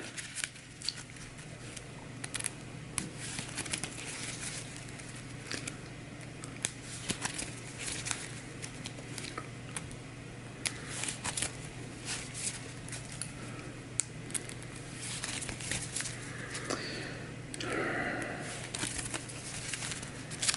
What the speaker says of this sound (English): there's a shuffle and a cut